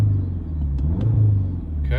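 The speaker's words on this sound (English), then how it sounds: "this is the sound when you rev it in normal mode" A Ford Focus ST MK4 engine revs in normal drive mode, a deep, close rumble that swells and eases back in one smooth rise and fall, heard from nearby.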